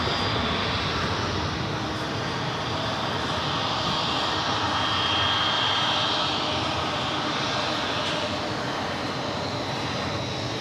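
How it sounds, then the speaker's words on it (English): An Emirates Airbus A380 at New York JFK Airport produces a loud, steady roar of jet engines, sustained and close throughout with no talking. "Emirates A380."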